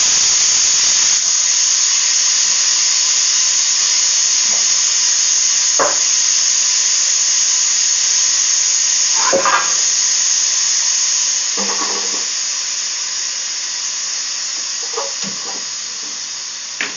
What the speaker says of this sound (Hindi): तो चलिए दाल मेरी हो चुकी है, फ्राई कर लेते हैं